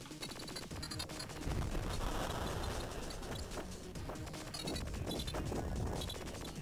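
Rapid crackling bursts and pops like little fireworks go off in Tempest 2000 on the Atari Jaguar, layered over dense electronic game music, loud and steady for the whole stretch.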